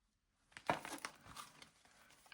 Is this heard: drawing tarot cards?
yes